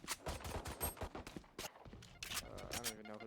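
Rapid gunfire crackles in a Valorant match, a dense burst of sharp shots and clattering effects stacked close together, with a commentator's voice mixed in.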